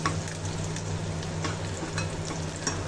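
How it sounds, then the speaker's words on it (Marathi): Onion fries in a pan for a Marathi alan curry, a steady sizzle with soft crackles and occasional stirring scrapes, close and continuous throughout with no voices. "आता कांदा आपला भाजलेला आहे."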